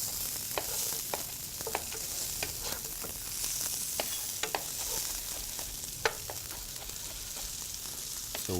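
Wooden spatula stirring salmon and couscous in a hot frying pan, with a steady sizzle under frequent scraping taps and clicks close by.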